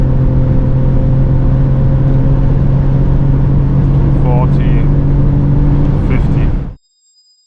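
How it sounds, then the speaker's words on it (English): A 2025 Mercedes-AMG GLE53 Coupe hybrid cruising on the German Autobahn gives a steady, loud low road-and-engine rumble with tyre roar, a person speaking briefly over it, before the sound cuts off abruptly. "The all new 2025 model Mercedes AMG GLE53 Coupe. Listen to the sound."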